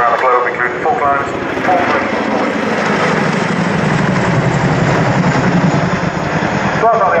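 An RAF Boeing Chinook HC.4 twin-rotor helicopter flies at an airshow, a loud, continuous rotor and engine drone with a rhythmic blade thrum, heard under a commentator's voice throughout.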